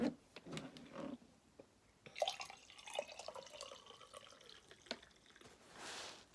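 Hot water poured from a kettle into a mug to make tea, a few short trickling and dripping splashes close by at a kitchen counter, with quiet pauses between pours.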